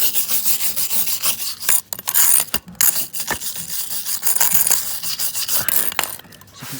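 Close, loud scraping of a worn concrete fountain's surface during restoration, harsh rasping strokes in uneven rhythm with brief pauses between passes, heard alone outdoors.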